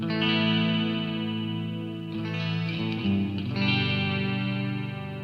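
Sustained electric guitar chords through a Boss GT-100 effects unit ring out with a distorted, shimmering effect and a wash of reverb, no delay, shifting chords twice.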